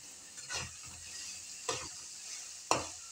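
Soybean chunks fry in a pan under a constant soft sizzle, with a few sharp scrapes and clicks from stirring spaced a second or so apart, close up and with no voices.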